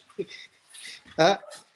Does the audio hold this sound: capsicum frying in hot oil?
no